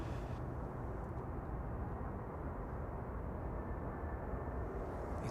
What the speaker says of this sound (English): EasyJet from Nice touching down.